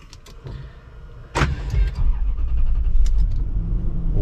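A Lexus LX 470 SUV engine cranks with a sharp burst and catches, then settles into a steady, low idle rumble, close up.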